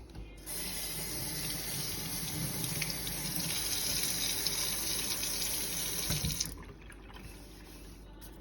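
Tap water runs steadily into a stainless steel kitchen sink during rinsing, a close, continuous broadband rush lasting about six seconds before cutting off, with no talking.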